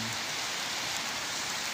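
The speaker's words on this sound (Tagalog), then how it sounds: "umuulan, patak pa rin." Light rain falls steadily outdoors, a soft, even hiss of drops with no voices over it.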